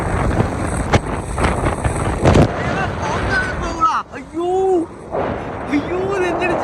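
Strong wind buffets the microphone on a hill road between Athirappilly and Valparai, a loud rushing roar for the first few seconds, then easing as someone talks over lighter gusts.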